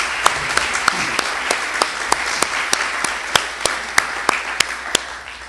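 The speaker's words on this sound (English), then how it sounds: "So just a random round of applause for the Sutherlands." A conference audience at Books in Browsers 2014 gives a round of applause, a dense, loud wash of clapping sustained throughout, with a few sharper individual claps standing out near the front.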